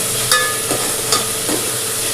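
Mutton pieces with onion-garlic masala fried and stirred in a pan at home, a steady close sizzle with a few scraping stir strokes, no talk.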